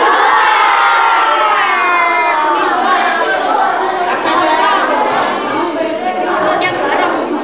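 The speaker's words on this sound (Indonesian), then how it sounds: "semua berteriak." A crowd of sixth-grade primary school children shout, cheer and chatter all at once during a school retreat, loud and continuous, with overlapping excited voices close by.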